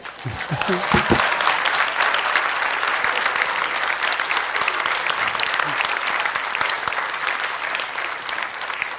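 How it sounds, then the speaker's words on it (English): An audience at a policy institute talk breaks into loud, sustained applause, dense clapping filling the room steadily for the whole stretch. "You decide whether you want to applaud or not. Who wanted to applaud?"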